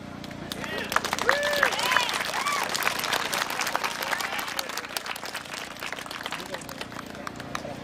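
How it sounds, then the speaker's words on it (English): Audience applause at a rattlesnake demonstration at the Virginia State Fair: dense clapping from a crowd with whoops and shouted voices, strongest early and tapering gradually over several seconds. "Now, by applause, who wants to see something really dangerous?"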